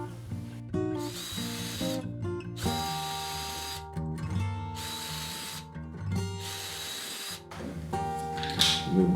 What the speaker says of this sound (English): those toothpicks require a hole that's a number 44 number to drill bit